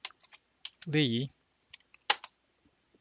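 Sparse, light keystrokes on a computer keyboard tap out a command, scattered clicks spread across a few seconds with brief pauses between them, interrupted by a short spoken word.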